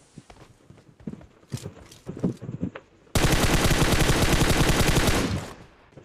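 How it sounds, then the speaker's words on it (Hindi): A sustained burst of rapid automatic gunfire, loud and dense, following a few scattered sharp shots and clicks in a PUBG Mobile game scene. "तभी एक बंदा राइट से गोलियां चलाता है।"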